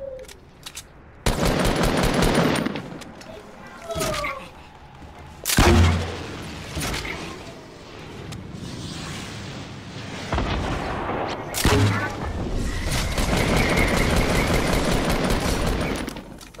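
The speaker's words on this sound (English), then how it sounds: "Got him with that rocket." Fortnite battle sounds: bursts of rapid automatic gunfire and heavy rocket blasts with booming explosions, loud and dense, repeating in waves across the scene.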